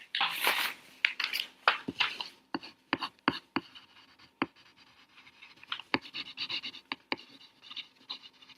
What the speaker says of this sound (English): I gotta write it down.